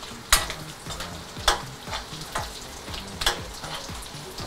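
Fish roe frying in ghee with onion and garlic, a steady sizzle broken by about five sharp scraping stirs of a spoon in the pan at regular intervals.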